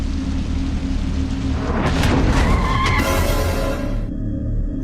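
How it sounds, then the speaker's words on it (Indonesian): A car skids with tyre squeal and strikes a person in a film scene, a loud burst of screeching and impact noise rising mid-clip over a steady rumble of engine and score, then cutting off abruptly near the end. "dengan timing yang sangat pas, Tiara ditabrak mobil sampai dia teler"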